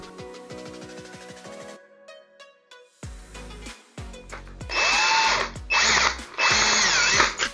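A power drill unscrews a toggle bolt from a loose towel rod mount in a wall, in several short whirring bursts, close and loud, with brief pauses between.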